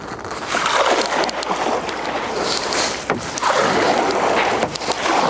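A kayak paddle pulls through the water in backward strokes, with sloshing and splashing washes swelling and easing close by under steady wind noise, two long surges split by a brief lull.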